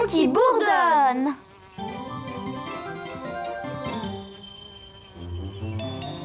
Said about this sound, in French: C'est le bourdon qui bourdonne.